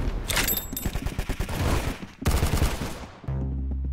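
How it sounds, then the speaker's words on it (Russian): Rapid bursts of automatic gunfire in the video game Roblox Arsenal rattle loudly and densely, then a brief gap before another sustained volley, ending in a low electronic hum. "Здесь какие-то выстрелы."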